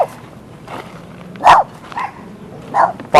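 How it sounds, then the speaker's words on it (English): A dog in a dog park in Palm Springs gives a couple of short, loud barks at people, spaced about a second apart, with a quieter yip in between and no talk over it. "You don't bark at people."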